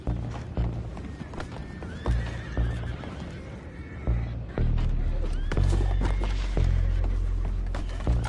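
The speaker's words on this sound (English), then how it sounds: "Go find out about those horses down below." Horses in the Red Dead Redemption 2 video game neigh and whinny repeatedly near a river anchor scene, with clip-clop hoof sounds and heavy thumps building to a louder rumble in the second half.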